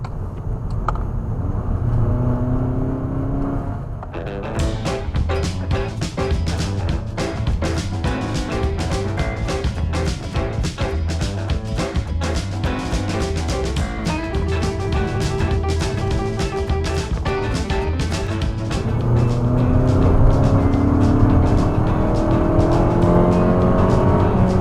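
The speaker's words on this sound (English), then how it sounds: "the drive up the base of the mountain is actually pretty fun in the new car" A new car climbs a winding mountain road, its engine a steady rumble with a rattling, buzzing cabin tone and shifting pitch as it accelerates and eases through corners, heard from inside at moderate loudness for the whole stretch, with no talking.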